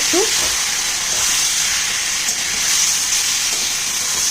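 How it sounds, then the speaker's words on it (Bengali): Chicken pieces fry on a high flame for Gandharaj chicken, giving a steady, loud, broadband sizzle and hiss that carries on evenly throughout without pause. "একটু ফ্রাই করে কাঁচা গন্ধটা যাতে চলে যায়, তার জন্য হাই ফ্লেমে আমি এটাকে একটু ভেজে নেব।"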